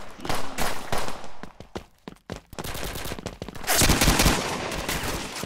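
Rapid automatic gunfire from a mobile shooter game played on Xbox, with dense bursts of shots and clattering footsteps, loud and close, with a brief lull before heavier firing resumes.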